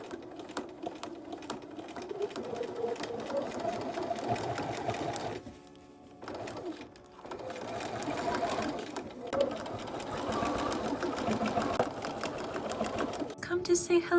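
A sewing machine runs in long steady bursts of stitching along the edge of a dress lining, pausing briefly once, with a voice talking over the motor.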